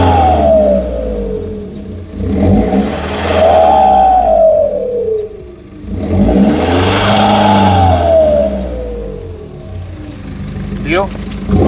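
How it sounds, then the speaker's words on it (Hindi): A Tata Nexon engine with a modified exhaust revs hard several times in neutral, rising and falling in long swells with a throaty, rumbling exhaust note, close by, with brief lulls between. "इसका एग्जॉस्ट नोट मैं आपको सुनाता हूँ"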